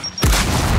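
A grenade goes off in Gears of War, a single sudden, loud, close boom with a deep rumbling tail that fills the rest of the moment.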